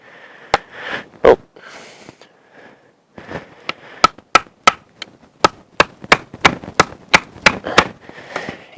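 A knife splitting a stick of fat wood for a ferro rod fire: sharp, dry cracks, first scattered, then a fast, steady run of close, crisp hits toward the end.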